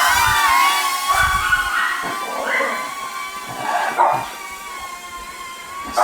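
Dogs bark intermittently at a moderate distance, with a few louder yips breaking through a steady background.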